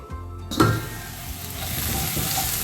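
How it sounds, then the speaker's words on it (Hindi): Spice masala fries in a pan on low flame while being stirred, a steady close sizzle with scraping and a metallic clink of the spoon against the pan, no talking. "मसाले को लगातार चलाते हुए भून रहे हैं।"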